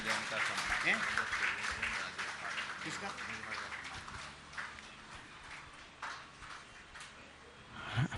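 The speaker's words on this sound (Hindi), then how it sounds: "तालियां अनवरत जारी रहना चाहिए।" Audience applause at a Jain religious gathering honoring the author of two books, a dense, continuous wash of clapping that runs steadily from start to finish with slight swells.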